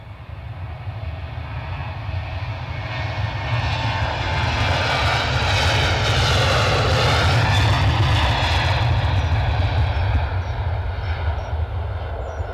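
Ryanair airliner taking off or landing at Edinburgh Airport, a loud, steady jet engine roar with deep rumble that swells slightly mid-pass, close and continuous with no talk.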